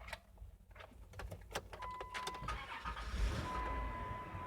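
An auction car's engine cranking and catching, a few rough turns building into a running rumble with a thin whine over it, close and fairly quiet.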